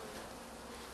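A honeybee swarm, about a kilo of bees taken from inside a house wall, hums in a steady, dense drone that fills the whole moment without a break.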